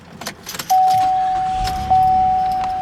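A set of four car keys for a 2014 Chevy Impala LT jangles briefly and close up at the start, followed by a steady tone, with no talking.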